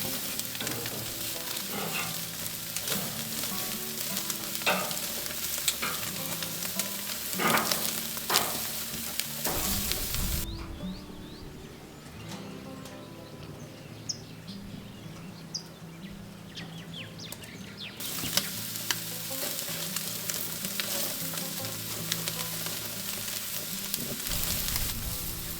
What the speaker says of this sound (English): add your protein to a very hot pot and cook it for a few minutes so that the meat is beautifully caramelized and browned